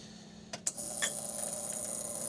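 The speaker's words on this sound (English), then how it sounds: "That sound is the pump coming on to refill the boiler." A few mechanical clicks give way to a steady mechanical hum and whine as the pump of a Rocket R58 Cinquantotto espresso machine starts up to refill the boiler, close by and continuing without talk.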